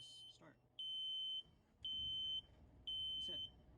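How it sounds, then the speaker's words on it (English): A sailboat's engine alarm sounds at startup, three steady high-pitched beeps of about half a second each with short gaps, loud and close over a low engine-room hum, with a brief voice at the start. "So you turn it on, and it'll beep, beep, beep, loud, loud."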